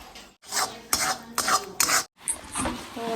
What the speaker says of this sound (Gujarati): મિક્સ કરે છે ભાભી મમરા અને ગોળ